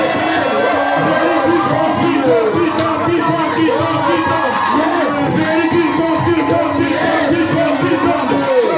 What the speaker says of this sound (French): Il tombe sous tes cris de victoire au nom de Jésus.